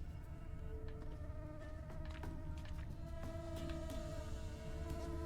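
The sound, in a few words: bees or flies buzzing in The Witcher 3 video game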